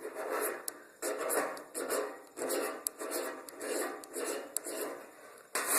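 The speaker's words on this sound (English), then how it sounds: "you'll want to get you a pile of magnesium shaved off" A blade scrapes shavings off a magnesium fire starter block in steady, repeated rasping strokes, close and fairly loud, with brief pauses between passes and no talking.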